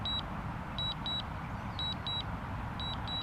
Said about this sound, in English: And I got something beeping as well. That's just the controller.